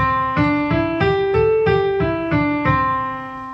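A voice sings a pentatonic scale, stepping up and back down, each note distinct and evenly paced, alone and close.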